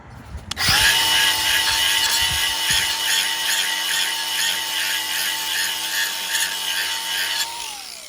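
A power tool buffs the flat side of a lawnmower blade, starting abruptly and holding a loud, steady high whine with grinding hiss for several seconds before spinning down, close up with no talk.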